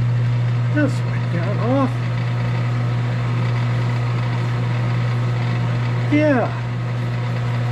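A Sunnen honing machine doing external work runs at a couple hundred RPM, giving a steady, loud low hum that continues under a man's speech.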